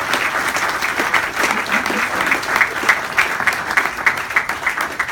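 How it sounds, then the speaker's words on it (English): An audience at a scholarship fundraising event breaks into loud, sustained applause, dense clapping from a sizeable crowd that stays steady throughout with no voices standing out. "Please give them a round of applause."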